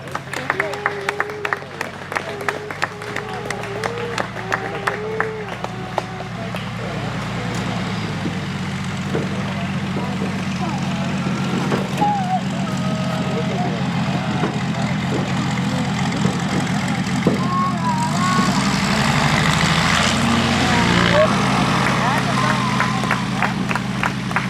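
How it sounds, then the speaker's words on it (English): An aerobatic airplane performs at an air show at Old Rhinebeck Aerodrome, its engine droning steadily and swelling through the pass, with applause and crowd noise around it and a voice talking over the top. "precision flyer of our premier aerobatic pilot, Mr. Matt Hewer."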